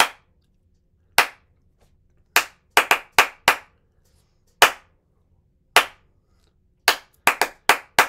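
Sharp hand claps tapping out the syncopated intro rhythm of a song, single and clustered claps spaced irregularly across the span, close and crisp against silence.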